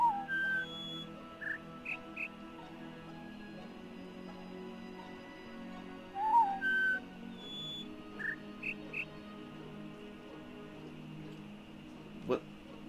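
Short whistled tones from the puzzle game The Witness, several brief pitched chirps in a repeating pattern over a steady ambient hum, moderately clear against quiet game background.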